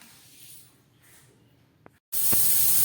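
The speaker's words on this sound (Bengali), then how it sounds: "প্রেসার কুকারে মটরটা সিদ্ধ হচ্ছে" A pressure cooker boiling peas lets out a loud, steady steam hiss that bursts in abruptly after a quiet stretch and keeps going.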